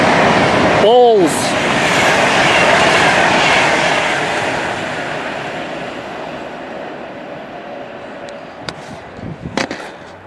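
Train rushing through Burton-on-Trent railway station, loud and close from the start with a horn sounding early, its roar slowly fading as it draws away, followed by a few sharp clicks near the end.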